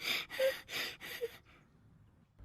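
A man clearing his throat in the early morning at home, a few harsh, raspy bursts in quick succession, loud and close, fading out into near silence.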